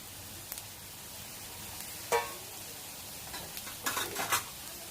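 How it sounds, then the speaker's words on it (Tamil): Masala-coated chicken pieces frying in hot oil, a soft steady sizzle with a few brief stirring scrapes and clinks of a utensil against the pan, no talking. "நம்ம மசாலாலாம் தடவி வச்சுருக்க சிக்கனை வந்து ஃப்ரை பண்ணி எடுத்துக்கலாம்"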